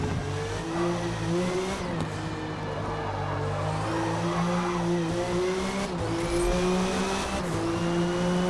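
A prototype race car in Forza Motorsport loses grip on track, its engine droning steadily while tires squeal and skid continuously throughout, close and loud with no talking.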